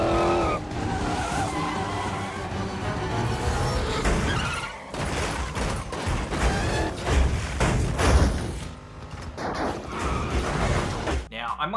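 Tires skid and squeal during the car chase of the 2011 film Fast Five's bank vault scene, amid loud, dense engine roar, crashes and soundtrack, with voices heard throughout.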